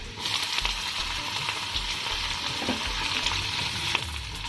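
Ginger and garlic fry in a pan with a steady, close sizzle and occasional stirring scrapes, a continuous crackle with no voices.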